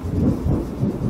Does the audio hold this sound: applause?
no